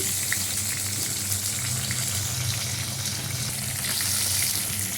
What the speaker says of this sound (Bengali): টমেটোগুলো দিয়ে দিচ্ছি।